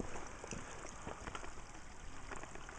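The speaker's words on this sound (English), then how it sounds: "You might be able to see the rain actually coming down now." Light rain falling on the Rhyd Ddu path of Snowdon, a soft, continuous patter of drops, faint and close with steady wind-like hiss.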